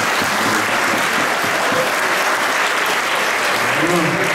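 Steady applause from a concert audience, dense clapping that fills the whole stretch at constant loudness with a few faint voices mixed in.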